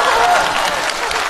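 An audience at a Liaoning TV Spring Festival Gala comedy sketch breaks into loud, dense applause, a close wash of clapping that lasts just over a second.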